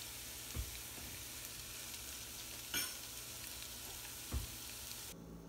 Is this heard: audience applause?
no